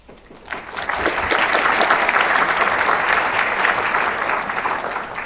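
An audience at a contest opening ceremony starts clapping after a short quiet moment, and the applause swells into a full, steady round that holds before easing slightly.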